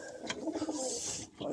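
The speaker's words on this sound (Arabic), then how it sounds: "شوفوا هاي الطيور ما شاء الله عليها" Pigeons or doves coo near the listener, with soft chirps mixed in and a voice speaking over the calls.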